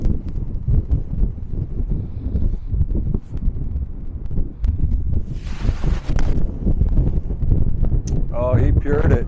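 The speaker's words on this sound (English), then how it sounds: "Heavy wind to the left, into us a little bit." Heavy wind gusts buffet the microphone on an open golf course, making a continuous low roaring rumble with rustling bursts. Voices are faintly present underneath.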